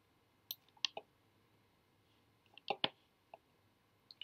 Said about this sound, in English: So click and drag your cylinder to your end.